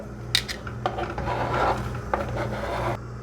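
Potatoes tumble into a pot for potato salad after the carrots and celery, a few scattered clatters and knocks of produce against the pot over a steady kitchen hum, close and moderately loud.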